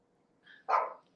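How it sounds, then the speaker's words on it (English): A dog barks at the door: one faint high whine, then a single sharp bark close by against a quiet room. "I'm sorry, my dog's at the door."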